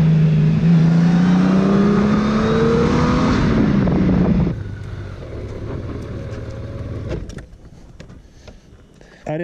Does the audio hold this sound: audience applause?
no